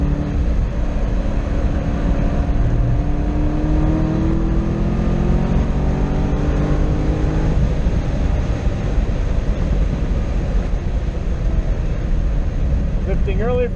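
A Corvette C6 Z06 with an LS7 V8 accelerates hard around a race track in third gear. Its loud engine roar climbs steadily in pitch and stays dense and continuous from the in-car position.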